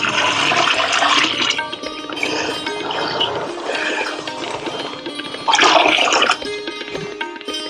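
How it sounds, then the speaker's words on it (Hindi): Water-thinned gram flour batter, two kilograms of flour, is poured in while making jivamrit, a steady gushing, splashing pour that runs throughout and swells louder near the end, with no talking. "बाद में डालते हैं हम चने का आटा 2 किलो, जिसमें पानी हमने घोल करके रखा है।"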